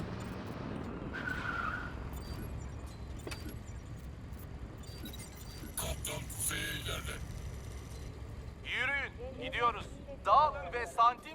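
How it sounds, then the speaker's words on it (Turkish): A car rushes in with engine roar and tire skids amid Crysis 2 game sound effects, followed by short electronic chirps; voices talk over parts of it. "Araba geldi."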